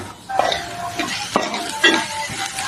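A spatula stirs onions with Kashmiri chilli, coriander powder and garam masala in a pan, with several sharp scraping strokes against the metal over a light sizzle.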